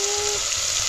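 Onion and dried shrimp (jawla) sizzle steadily in a pan over a wood-fired stove, a dense, close hiss of frying that stays even and loud for the whole second with no voices.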